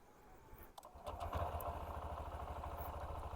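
A 2025 Honda SP 125 motorcycle engine fires up and settles into a steady, close idle with a low, even chug that carries on to the end.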